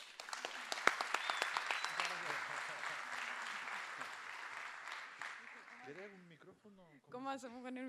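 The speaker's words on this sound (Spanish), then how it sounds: "lo recibimos con gran aplauso" An audience gives warm applause to welcome a lecturer, with sharp claps over a dense patter that fades out before people begin talking.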